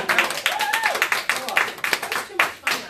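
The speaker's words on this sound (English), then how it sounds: "Give them a round of applause." Group applause for Roger and Stacy at a team meeting, a dense run of claps throughout, close and lively, mixed with voices and cheering.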